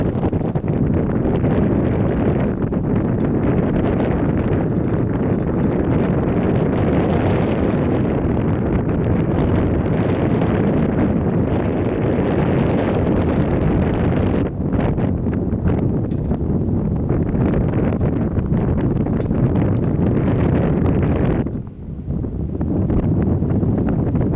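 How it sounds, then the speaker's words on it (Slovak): Strong wind at a mountain saddle near Lomnický štít roars continuously into the microphone, a loud, dense buffeting rush that barely lets up for over twenty seconds, with a brief lull near the end. "Fúkal silnejší vietor."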